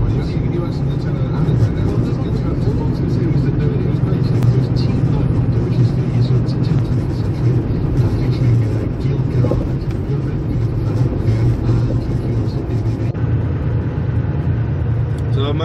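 A car cruises down the highway toward Edmonton, its steady road rumble and engine drone filling the cabin loudly and without a break.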